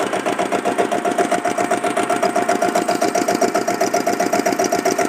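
A diesel Bullet motorcycle engine idles with a steady, rapid knocking rhythm, close and even throughout, no voices.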